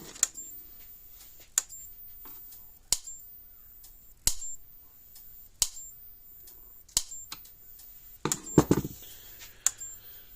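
An electric fence charger running on full power gives sharp clicks at a steady pace of about one every second and a half, ending in a brief cluster of louder clicks and rattling.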